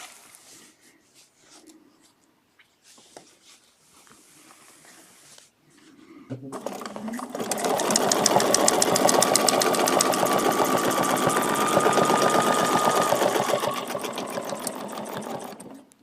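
A sewing machine stitches quilted feather designs with veining lines. Faint handling sounds come first, then a loud, steady, rapid run of stitching fills the rest without a pause.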